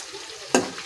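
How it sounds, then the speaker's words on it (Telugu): Onions and green chilies frying in hot oil, with a sudden loud sizzling burst partway through that fades gradually, heard close up in a home kitchen. "ఉల్లిపాయలు, పచ్చిమిరపకాయలు వేగుతున్నాయి కదండి"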